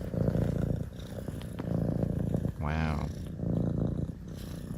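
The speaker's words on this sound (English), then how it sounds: "Wow, such a loud purr." A cat purrs loudly and close, a rhythmic rumbling that swells and fades with each breath. It continues steadily while a person briefly exclaims over it.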